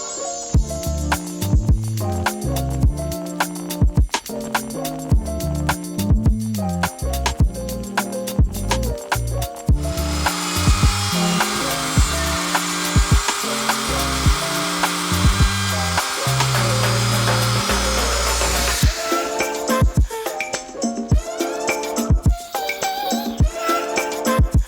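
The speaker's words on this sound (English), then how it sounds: "we're going to start by cutting the firewall so that we can move the axles backwards" A rotary tool or saw cuts the firewall of an RC car body, shrill and loud, with stuttering bursts, a long continuous grind in the middle, then more choppy cutting near the end.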